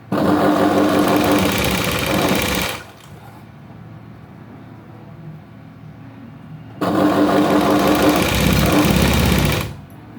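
An electric sewing machine stitches a V-neck blouse in two loud, even bursts of rapid whirring separated by a quiet pause of several seconds, the second run ending abruptly.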